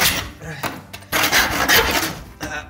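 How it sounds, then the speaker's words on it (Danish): A hand saw cuts through wood at a 45-degree angle near a table edge, producing loud, rasping back-and-forth strokes in an uneven rhythm, close up. "Så saver du træet over."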